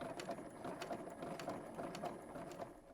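Domestic sewing machine running a regular straight stitch with backstitching along three sides of a detachable fashion collar; a steady, close mechanical chatter with rapid rhythmic ticks throughout, no voices.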